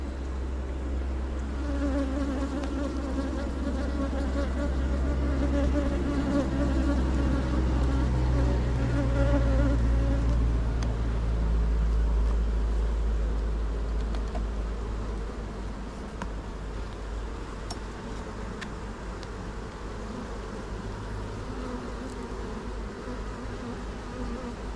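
Honey bees at a hive split hum in a dense, continuous swarm, with the buzz swelling nearer and louder for a while before easing back to a steady drone.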